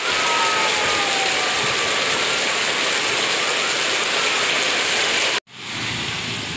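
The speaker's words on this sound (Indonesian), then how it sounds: "hujannya besar banget" Heavy rain pours in a steady, dense roar that stays loud and even, then cuts out abruptly for a moment before resuming, during a walk from Padalarang to Jatinangor.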